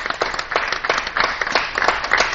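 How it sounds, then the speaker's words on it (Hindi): Audience applause at a 2017 DD Uttar Pradesh award ceremony, a dense, steady patter of many hands clapping close and continuous through the whole moment. "एक बार जोरदार तालियां"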